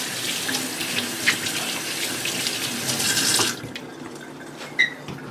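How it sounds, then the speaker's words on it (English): Water runs steadily from a kitchen faucet as squash seeds are rinsed out by hand, a bright splashing stream that cuts off partway, followed by a few small drips and clatters. "And with your hands, even under a running faucet, you can wash out all those seeds."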